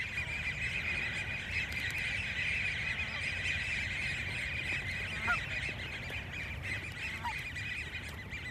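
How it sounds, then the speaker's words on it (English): A large flock of ducks gathered in one place keeps up a dense, continuous chorus of honking, squealing calls, steady and fairly near, with no talking over it. "I don't know if she's ever seen this many ducks all in one place."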